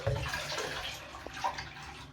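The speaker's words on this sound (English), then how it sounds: "I'm going to pour this water down the sink." Water from a bowl is poured down a sink in a short, continuous splash and gurgle, fairly close and moderately loud, with no talking.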